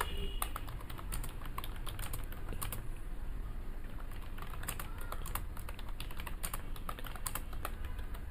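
Steady typing on a computer keyboard, dense irregular key clicks throughout at moderate loudness over a faint background hum, no voices.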